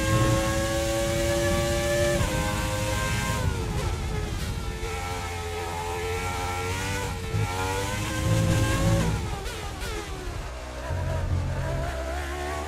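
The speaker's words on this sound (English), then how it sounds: "You cannot beat the sound of a V10 engine." Nigel Mansell's classic V10 Formula 1 car in the F1 2020 video game screams loudly and continuously, its engine pitch climbing through gears and dropping on shifts, with no talking over it.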